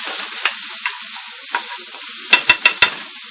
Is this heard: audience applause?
no